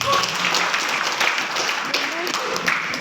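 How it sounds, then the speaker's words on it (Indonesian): Audience applause fills a seminar hall on debt and riba, a steady wash of many hands clapping together at close range, sustained throughout with no clear breaks. "Aplaus buat Anda semuanya."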